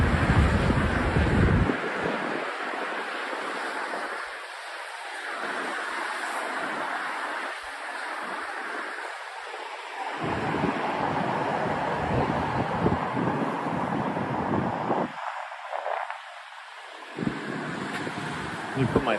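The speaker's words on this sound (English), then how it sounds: "It's actually windy up here." Strong wind gusting over a pedestrian bridge above the FDR Drive in New York City at night, buffeting the microphone in loud rushing bursts that drop out briefly and return, with faint traffic noise beneath.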